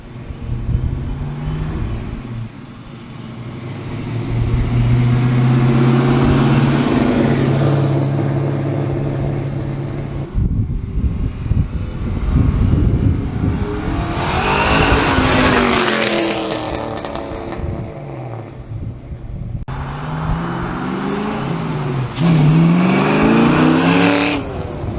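A 1986 Ford Mustang GT Foxbody V8 rumbles loud and close, with sustained revving and rising bursts of acceleration as it drives, the engine note swelling and falling over a long stretch.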